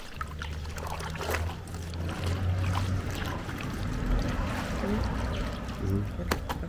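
Scalding hot water rinsing wax off dyed fabric in a textile dye workshop, a steady splashing and trickling wash with occasional sloshes and knocks, moderately close.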